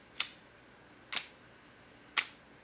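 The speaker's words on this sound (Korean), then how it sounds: "셔터가 열리고 닫혀서 필름의 빛을 쬐게 해주는 그것이 셔터고요" Film camera shutter firing at a one-second speed, three crisp, faint mechanical clicks spaced about a second apart in a quiet room.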